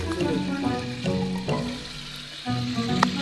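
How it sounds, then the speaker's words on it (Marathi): Chicken is tempered in hot oil for a village biryani party, and the pan sizzles and spatters in bursts. Liquid splashes and stirring break it up, and voices talk over it. "आता चिकनला फोडणी द्यायचं काम चालू आहे"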